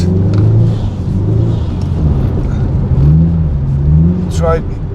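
A Subaru Impreza WRX STI lapping an ice track sideways, its engine a steady loud droning rumble with slight rises in revs, close and continuous throughout.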